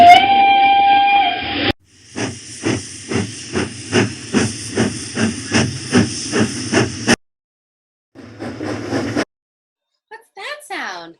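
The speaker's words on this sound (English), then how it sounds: "train on the railroad tracks" A steam train on railroad tracks opens with a loud hiss, then settles into a steady run of rhythmic chuffs. After a short pause come a few more bursts and a brief whistle-like squeal, with no voices.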